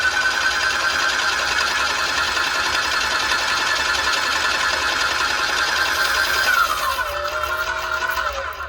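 An airless paint sprayer running and pushing paint through a 50-foot hose, a steady mechanical pumping drone with a whining tone that dips and shifts near the end.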